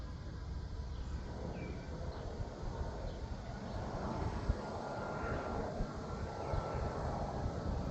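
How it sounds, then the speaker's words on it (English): Steady broadband rumble of an airplane flying by overhead, a continuous roar that swells slightly toward the end. "Just hearing that the plane flying by now is"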